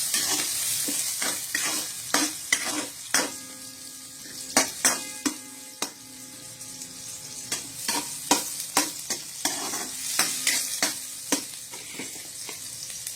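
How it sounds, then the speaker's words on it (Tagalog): Bay leaves sauté in a pan while adobong pusit cooks, with a steady sizzle under repeated sharp clinks and scrapes of a utensil against the pan at an uneven rhythm. "Ginigisa ko po yung laurel para mas lumutang yung kanyang lasa."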